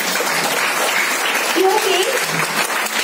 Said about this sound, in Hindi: आपके लिए एक बहुत बड़ी खुद के लिए ताली बजाइए